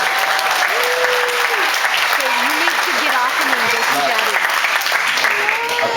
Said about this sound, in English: let's give a round of applause on his first broken bone